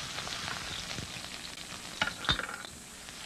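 Chopped onion and green onion frying in a wok for a beef tomato chow mein, a faint steady sizzle with a few clinks and scrapes of stirring.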